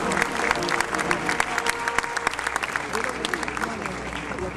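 Loud, enthusiastic applause from a large university audience at a lecture, dense continuous clapping that fills the space for several seconds.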